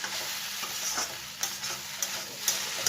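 Egg noodles with spring onion stirred in a wok, with repeated scraping strokes at a steady rhythm over a constant sizzle, close and moderately loud.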